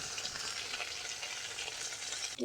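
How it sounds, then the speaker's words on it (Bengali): Rohu fish paturi, wrapped in pumpkin leaves, fries in hot oil over low heat, giving a continuous, even sizzle close by that holds steady throughout, with a brief knock right at the end. "এবার ভালো করে হালকা আঁচে ভেজে নেব।"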